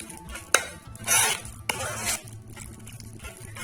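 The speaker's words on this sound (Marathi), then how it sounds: "असं हाटून घ्यायचे तुम्ही पळीने किंवा रवीने हाटू शकता" A ladle whisks a thick mixture of dill and green sorrel leaves in a metal pot, making close, brisk scraping and swishing strokes with a few sharp knocks against the sides and no voices.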